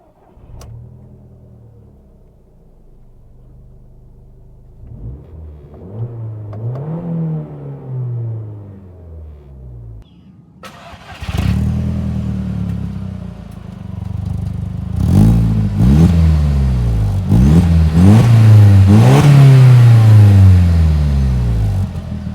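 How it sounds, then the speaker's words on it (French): A 2005 Audi TT Quattro Sport's four-cylinder turbo engine cranks and starts after a quiet moment, settles into a steady idle, then is revved hard several times in loud, rising bursts close by. "Allez, il est temps de démarrer le 4 cylindres turbo."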